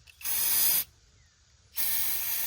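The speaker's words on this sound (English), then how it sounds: "we're gonna hit this with some brake cleaner" Brake cleaner sprays onto a clogged brake part in two loud, close, steady hissing bursts of under a second each, with a brief quiet gap between them.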